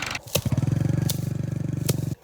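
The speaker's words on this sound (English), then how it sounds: "The tractor is stuck." Tractor engine laboring while stuck in a field with a trailer, a steady rapid low chugging pulse running close and loud for about two seconds, punctuated by a few sharp clanks.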